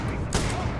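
Gunfire in the space video game Starfield, a dense burst of loud shots over a thick rumbling background, with one sharper blast standing out near the middle of the short moment.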